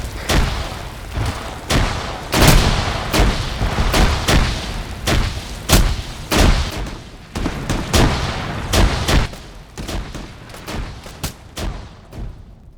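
Grenade blasts and heavy gunfire in an online multiplayer shooter match, with a relentless series of loud booms and cracks coming in irregular bursts at close range.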